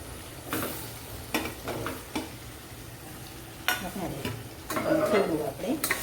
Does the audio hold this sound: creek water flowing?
no